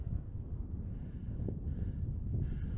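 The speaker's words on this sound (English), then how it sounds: "But yeah, it's windy." Steady low rumble of wind off the sea buffeting outdoors in Cañón de los Perdidos, continuous and fairly loud throughout, with no clear voices.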